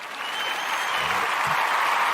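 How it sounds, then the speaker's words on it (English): A crowd applauds with a steady wash of clapping that holds throughout, with a couple of low thumps partway through. "Let's give the Ujima babies a round of applause."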